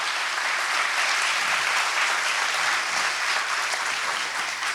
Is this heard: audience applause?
yes